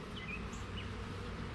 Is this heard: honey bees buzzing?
yes